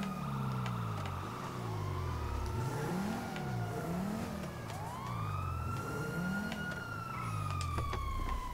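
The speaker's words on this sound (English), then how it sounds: "Why is that siren still going off?" Police siren in the video game GTA V, a loud wailing and yelping siren sweeping up and down continuously alongside a revving car engine, with no talk.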